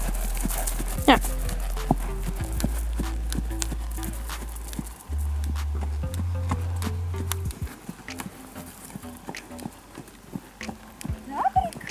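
A horse walks with steady, clear clip-clopping hooves close by, while people talk throughout and a brief whinny-like sound appears near the start.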